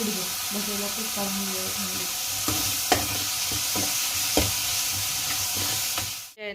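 Onion and green chillies sizzle and crackle steadily in a hot pan, with occasional clinks and scrapes of stirring, close up.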